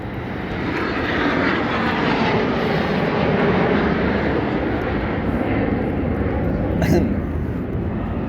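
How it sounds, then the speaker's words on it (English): A private jet circles overhead outside an aviation museum, its engine giving a steady broad roar that holds for the whole stretch, loud and close, with a person talking over it. "The PJ private jet circling around, waiting to come back and pick me up."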